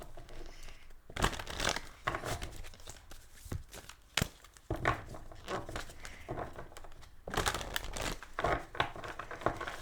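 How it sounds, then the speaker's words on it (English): Tarot cards shuffled by hand in bursts, crisp riffling and slapping of the deck with brief pauses between passes, close and fairly loud with no talk. "let's do 2 more shuffles here before laying it out"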